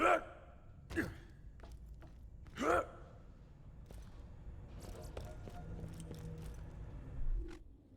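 Heavy breathing of characters in the Borderlands 2 video game: several loud, sharp gasping breaths spaced a few seconds apart, over low game ambience with faint clicks and footsteps.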